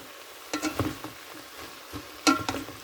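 Pork stir-fried with white cabbage and chili crackles quietly in a pan, punctuated by a handful of sharp spatula scrapes and clanks in irregular bursts.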